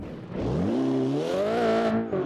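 A blue Toyota Celica rally car in the BeamNG.drive video game roars close and loud, its engine revving hard as the pitch climbs and wavers continuously, with a hint of tire noise.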